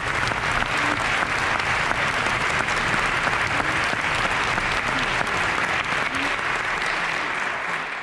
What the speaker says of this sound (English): give a round of applause to Melissa Hall and Michael Richter